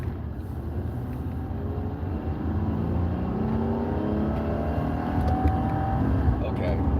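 Car engine and road rumble while driving in traffic close behind an 18-wheeler trailer, a steady low drone that swells slightly, with occasional voices over it.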